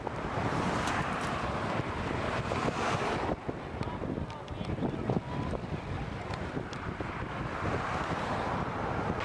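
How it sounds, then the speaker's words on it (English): A strong headwind batters the microphone on a bike ride in Hawaii, giving a continuous loud roaring rumble with gusty buffeting that eases slightly partway through. "We are traveling into a huge headwind"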